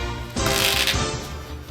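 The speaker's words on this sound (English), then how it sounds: "I'm going to shuffle the cards and we're going to get underway here" A deck of playing cards is riffle-shuffled up close in one quick burst of fluttering, crisp card noise lasting under a second, with quieter handling before and after.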